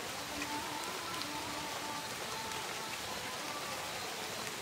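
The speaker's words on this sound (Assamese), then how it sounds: "এতিয়া একদম বৰষুণ দিছে" Heavy rain falls in a forest at night, a steady, even hiss of drops that holds without a break, fairly soft and with no voices over it.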